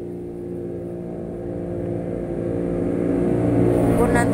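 An engine rumbles steadily and grows louder, like a motorcycle approaching and passing nearby.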